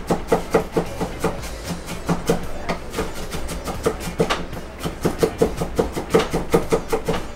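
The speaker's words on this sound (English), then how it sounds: "And then as finely as we can chop the onions here." A knife finely chops onions on a board in quick, steady, close taps, a sharp rhythmic series of knocks running throughout with no talking.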